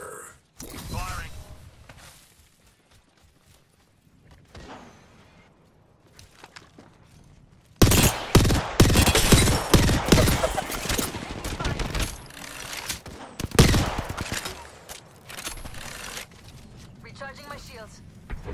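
Rapid automatic gunfire bursts from a squad shooter game, Apex Legends, loud and dense in the second half after a quieter stretch of footsteps and mechanical clatter, with voices talking.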